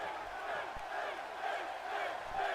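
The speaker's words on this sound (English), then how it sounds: "Certainly a portion of the crowd cheering Finn on." A WWE 2K18 video game arena crowd cheers and roars in a continuous swell during a Finn Bálor versus AJ Styles wrestling match, a wash of game crowd noise with faint commentary beneath.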